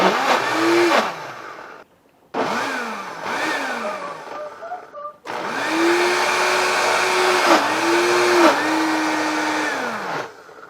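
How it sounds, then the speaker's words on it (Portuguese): Blender on low speed blending carrot cake batter, running in three bursts with short pauses between, its motor pitch dipping and rising as the load changes; loud and close with no talk. "Tem que bater devagar para a cenoura aí."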